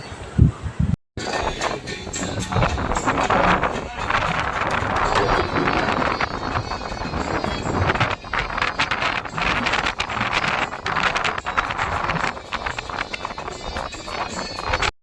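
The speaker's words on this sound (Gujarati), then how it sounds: "બહુ જ પવન" Strong wind roars and buffets the microphone in a continuous, gusty rumble.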